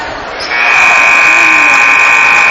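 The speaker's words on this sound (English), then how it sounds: "Shot at the buzzer, no good by Olivia Reed." A loud, steady electronic buzzer blares and holds continuously after a brief moment of crowd noise in a gym at the end of a girls' varsity basketball game.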